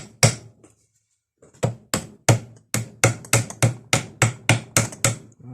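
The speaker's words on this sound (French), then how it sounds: "Tapez au cul au marteau." Hammer blows knock a CV joint off a Volkswagen driveshaft, one isolated strike then a pause before a steady run of a dozen sharp metallic taps, close and loud with no talking.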